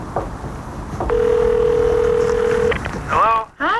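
A single steady electronic ringback tone lasts under two seconds over background noise, followed by a short voice.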